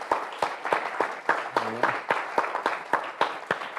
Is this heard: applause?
yes